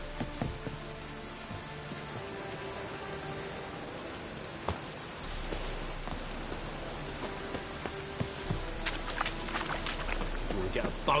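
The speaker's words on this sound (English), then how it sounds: "Rain again." Steady rain falls in The Witcher 3: Wild Hunt, a soft continuous hiss of drops on surfaces with occasional sharper patters, quiet and ambient throughout.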